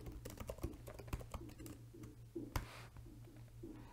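Computer keyboard typed on while renaming a property, a quick irregular patter of faint clicky keystrokes with a few sharper hits, close and alone.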